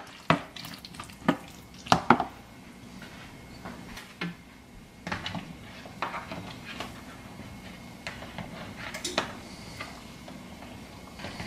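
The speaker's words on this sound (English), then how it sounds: "Mix everything up." Shrimp cocktail ingredients stirred and mixed in a bowl, with intermittent scraping and clinking strokes, a few sharper hits early on, then steadier, softer mixing close by with no talking.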